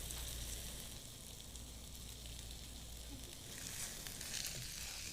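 A steak cooks in a pan with a faint, steady sizzle and soft hiss, heard from a distance at low level, with no voices.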